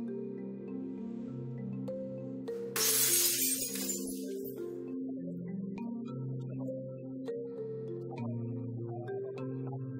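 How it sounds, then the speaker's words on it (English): In a Shanghai rage room, an object is smashed in one sharp, bright crash that lasts about two seconds, heard over steady background music that continues throughout. "I just need a release to smash stuff."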